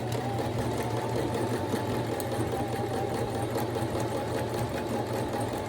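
A sewing machine stitches fabric for a face mask, a steady, fast mechanical whirring hum running continuously and close up, with no talk over it.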